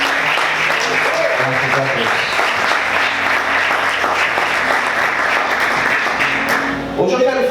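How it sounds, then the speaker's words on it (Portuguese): Congregation applauding in a church service, steady loud clapping for several seconds before it breaks off, with a voice speaking briefly at the end. "Vamos aplaudir o Senhor bem forte"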